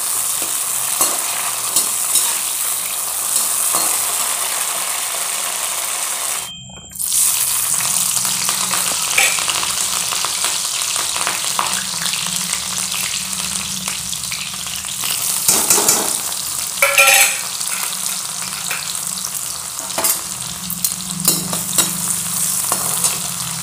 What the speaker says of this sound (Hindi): अब जल्दी से सब्जी छौंक दूंगी